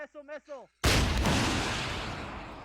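A missile launcher fires in a military video game: a sudden loud broadband blast cuts in after brief talk, then a long roaring rumble that slowly fades over a couple of seconds.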